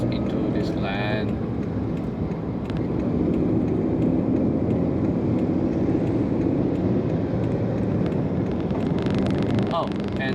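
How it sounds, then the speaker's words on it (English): Loud, constant road and wind roar fills the cabin of an old Perodua Viva as it merges onto a road, a dense broadband rumble with poor sound insulation, and someone talks over it throughout. "you can hear everything around the car inside the cabin here, so it's quite loud"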